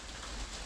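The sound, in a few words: rain bouncing off a greenhouse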